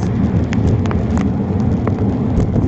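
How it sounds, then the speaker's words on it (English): Heavy rain, turning toward hail, drums hard and loud close around a cyclist riding in Crawley, a dense steady patter over a low rumbling background with no speech. "This rain is getting hard."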